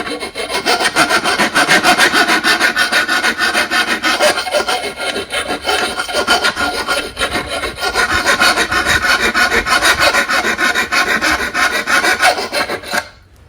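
A file rasps steadily back and forth across the edge of a garden cutting tool being sharpened, making a continuous close, gritty scraping with quick regular strokes, a short pause midway and no talking.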